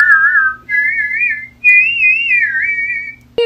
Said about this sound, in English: Whistling in stereo surround sound. How you do a double whistle? Blowing out of two sides of his mouth.